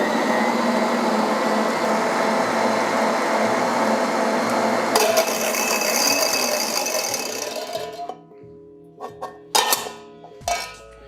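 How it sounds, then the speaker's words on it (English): Electric stand mixer with an open top whirring loudly as it beats cake batter of softened butter and eggs. The steady motor drone runs for about eight seconds, then stops, leaving a few clanks and knocks. "It's my first time working with this mixer that is open on top"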